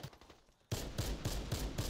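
Automatic rifle fire from the HCAR in the shooter game Warface, with loud, close rapid bursts cracking out at a steady rhythm after a short, quiet lead-in.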